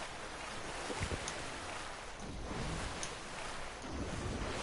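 Boat moving on open water in the Fortnite video game, a steady rush of waves and wind noise that carries on throughout.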